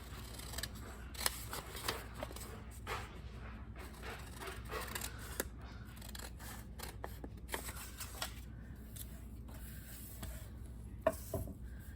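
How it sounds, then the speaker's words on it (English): Scissors snip through paper in a quiet room, blades closing in a loose, uneven run of crisp cuts while a frame is trimmed away for a circus-themed journal. "Cut off the frame."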